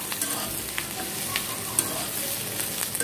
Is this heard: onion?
yes